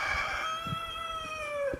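A chicken in a backyard coop makes a short, drawn-out call, a clear close squawk that slides downward, with faint knocks and rustles around it.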